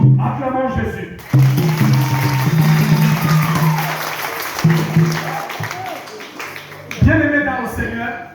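A church congregation at a celebration service applauds in a sustained burst of clapping, with a preacher's voice speaking over the start and end and occasional shouts mixed into the crowd.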